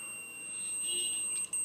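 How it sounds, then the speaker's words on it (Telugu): A digital multimeter's buzzer sounds during a continuity test while its battery is being changed. It gives a thin, high, steady electronic tone, fairly faint against a quiet room. "సో ఈ బజర్ చూసినట్లయితే చూడండి"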